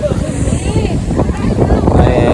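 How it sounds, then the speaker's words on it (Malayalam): Wind buffets the microphone beside the water at Malampuzha, Palakkad, with a loud, rumbling roar that surges and dips continuously, and voices can be heard beneath it. "നല്ല കാറ്റല്ലേ നല്ല കാറ്റ്"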